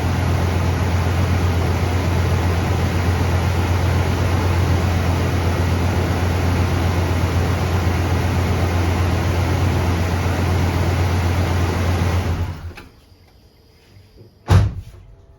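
A cold-started 1972 Chevrolet Monte Carlo with a 350 V8 idles in a steady, loud low rumble that holds for about twelve seconds, then cuts off abruptly, followed by near silence and one brief sharp knock.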